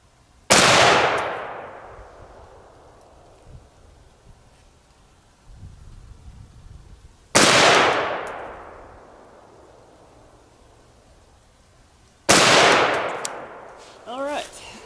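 Three loud, sharp gunshots, each followed by a long rolling echo, spaced several seconds apart as a target is shot at with a red dot sight outdoors, with faint talk between shots.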